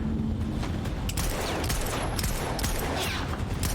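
Gunfire from the TV show Stargirl comes as a dense, rapid volley of loud shots, booming continuously through the short stretch with no pauses.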